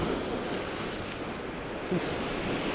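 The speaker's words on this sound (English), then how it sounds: "I'm just watching to see just what shape these waves are making." Sea waves wash onto a shoreline in a steady, continuous surf roar, with light wind noise on the microphone and a slightly louder surge near the end; no voices.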